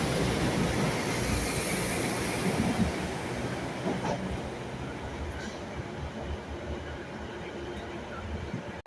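A Class 195 diesel multiple unit on a Northern passenger service passes at Lancaster station with a steady, broad rumble and rail noise throughout, slightly louder at the start and easing off.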